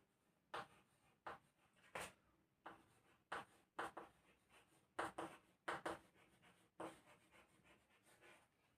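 Chalk or marker scratching across a board in a classroom, a series of short, separate strokes with brief pauses between them, close and fairly quiet, with no talking.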